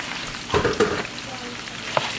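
Marinated onions sizzle steadily in a pan while a utensil scrapes and stirs them in a few quick strokes, with a softer clink near the end, fairly close and quiet.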